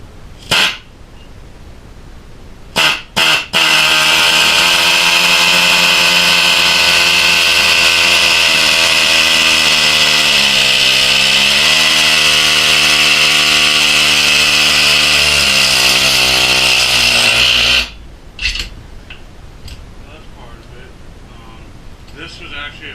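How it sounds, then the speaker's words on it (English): An air-powered needle scaler attachment works a Sportster motorcycle part, opening with a few short bursts before a loud, harsh, unbroken rattling hammer of about fifteen seconds that cuts off abruptly, followed by quieter handling noises. "This was actually a flea market find I got with the needle scaler attachment."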